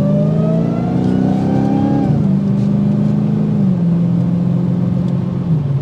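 A supercharged 6.2 liter V8 Hemi in a 2023 Dodge Challenger Hellcat revs loudly and steadily close by, its pitch rising and then settling back to a lower rumbling idle, with no talk over it.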